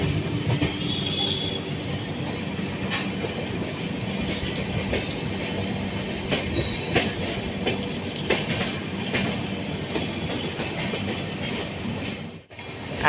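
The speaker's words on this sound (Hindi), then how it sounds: "एंड वो सामने से आ रही है मैसूर जयपुर एक्सप्रेस।" The Mysore–Jaipur Express passes near Bhopal, by a metro bridge under construction, with a loud, steady rumble and rhythmic clickety-clack of wheels on rail that holds throughout, then dips briefly near the end.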